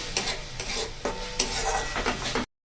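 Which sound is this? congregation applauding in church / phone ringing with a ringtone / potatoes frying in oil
potatoes frying in oil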